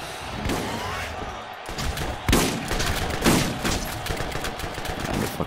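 Shotgun fire in the Borderlands video game lands as several heavy blasts among dense combat noise, with the loudest shots a few seconds apart.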